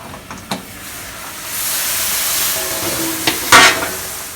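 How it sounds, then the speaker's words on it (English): Steam hissing from a pot or wok of boiling water steaming an egg and soy milk mixture for homemade silken tofu, a broad steady hiss swelling midway with a few brief clanks and a sharper burst near the end. "In a pot of boiling water or wok of boiling water, we will steam the egg mixture."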